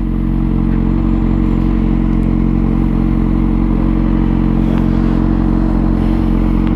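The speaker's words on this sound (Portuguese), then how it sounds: "Vamos dar um último acelera aqui na BR, como de costume." A loud vehicle engine accelerating on a highway at night, a steady, close, droning roar with no one talking.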